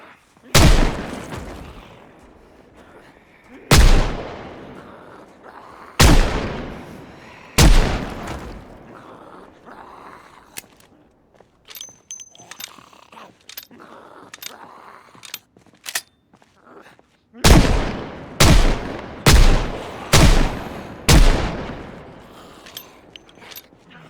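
Firearm shots in Project Zomboid crack out loud and near, first a few spaced single blasts, then a tight burst of rapid repeated shots, with quieter clicks and mechanical handling noises between.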